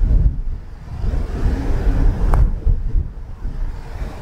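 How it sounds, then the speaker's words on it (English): Steady wind buffets the microphone on Sanctuary Ridge golf course, a broad low rumble that swells and eases throughout, with one brief thin tone near the middle. "You can hear that wind."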